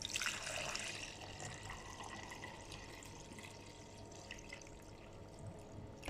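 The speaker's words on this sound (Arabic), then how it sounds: "هنحط شوية لبن" Milk poured into a bowl while making yogurt, a soft continuous liquid trickle and splash, faint and close, with no talk over it.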